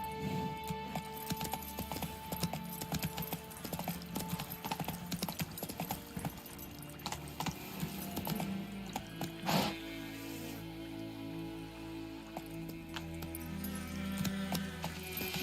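Roach the horse trotting in The Witcher 3: Wild Hunt, hooves clip-clopping in a steady rhythm throughout, with a brief whinny and game ambience underneath.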